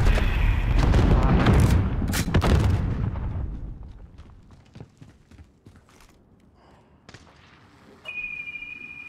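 Sniper rifle fire in Call of Duty Modern Warfare online play: a loud, booming burst of shots and rumble up front that fades into quieter scattered cracks and clicks, ending on a thin steady tone.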